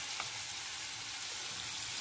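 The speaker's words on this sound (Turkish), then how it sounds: "Soğanım kavruldu." Chopped onions fry in hot olive oil in a pan, giving a steady, soft, hissing sizzle that stays even throughout without any voices.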